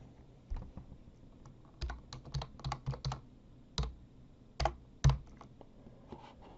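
Author's name typed on a computer keyboard, with irregular bursts of sharp key clicks and a few louder strikes, close and clear, against quiet room tone and no talking.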